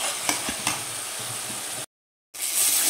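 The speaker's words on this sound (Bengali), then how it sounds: "মশলাটা দিয়ে গোটা তেজপাতা দিয়ে আমি নেড়ে চেড়ে নিচ্ছি মশলাটা" Mixed ground spices and whole bay leaves sizzle in hot oil while a spatula stirs them, with close scraping taps over a constant frying hiss, briefly cutting to silence near the end.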